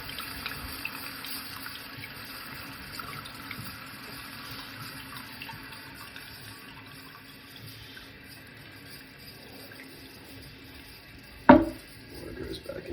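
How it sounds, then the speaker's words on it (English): A toilet bowl refills with water after flushing, a faint, steady trickling wash that runs throughout, broken near the end by a single sharp knock. "I see the water fill the bowl back up."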